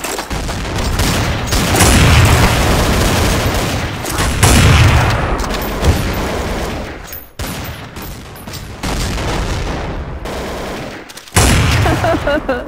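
Grenade explosion and gunfire in the Counter-Strike video game: loud sustained bursts of shots and booming blasts that fill most of the stretch, broken by brief pauses, with little talk.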